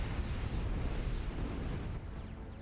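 Big Bertha artillery rumbling in the real-time strategy game Zero-K, a continuous low, booming roar with dense bursts sustained throughout, fairly loud, with no talk.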